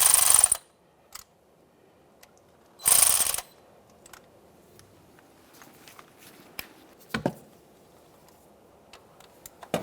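A ratchet and torque wrench tighten the mounting bolts of a neutral safety switch on a 2012–2015 Honda Civic 1.8L L4. Two sharp bursts of ratcheting are followed by quiet, scattered metallic clicks and taps.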